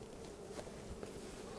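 Buzzing of a honeybee colony at an open hive in spring, bees bringing in nectar while smoke is used; a steady, fairly faint insect drone with no speech and no distinct peaks.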